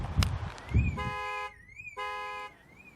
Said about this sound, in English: if the cable is then unplugged, an alarm will sound